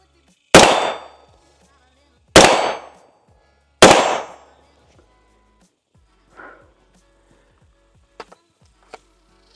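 An AR-15 rifle fires .223 rounds outdoors on a farm: three loud, sharp shots a couple of seconds apart, each ringing out and decaying, followed by a fainter pop and a few small clicks.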